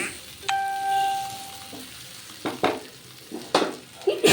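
Okra, potato and besan curry stir-fried in a pan, with soft scraping strokes and a low sizzle, a brief metallic ring near the start and a few louder spatula clatters toward the end.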